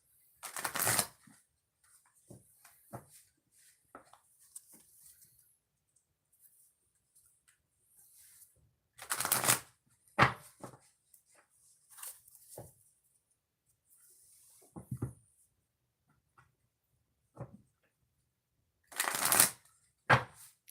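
Tarot cards are shuffled in several separate crisp riffling bursts spaced apart, with soft handling taps in the quiet gaps.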